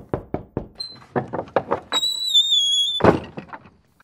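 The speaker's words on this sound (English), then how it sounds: "And then a gentle knock on the door." A series of sharp, evenly spaced knocks on a wooden door, fairly close, followed by a high squeaky whistle and a louder rustling thump.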